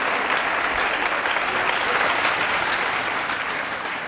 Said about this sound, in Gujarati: તાળીઓ પકડો મારા માટે.